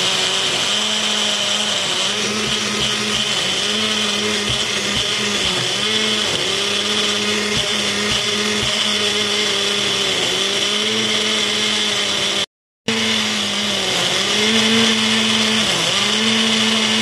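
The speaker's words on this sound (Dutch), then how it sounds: "Nu doe je alles in de blender met wat tomatenpuree." An electric blender purees chopped vegetables, peppers and spices with tomato paste for lahmacun, a loud steady whir running close with a wobbling pitch and a brief cut out near the end.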